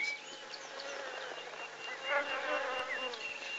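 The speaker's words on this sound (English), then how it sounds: "The honey bees, brought to life, crowded around our camp and raided our water bags." Dense, continuous buzzing of many honey bees swarming close by around a camp in the Kalahari, a steady droning hum with individual insects passing nearer now and then.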